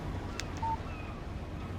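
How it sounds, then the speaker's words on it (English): In the Alan Wake game, a phone text message alert gives a brief, faint electronic chirp followed by a short tone, set against a quiet low rumble. "Text message from Barry."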